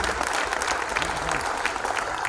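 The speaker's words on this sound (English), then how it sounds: "Let's have the biggest round of applause, ladies and gentlemen." An audience at the Smart Lift and Mobility Awards 2024 ceremony claps in a dense, steady burst of applause from a large crowd, sustained evenly throughout.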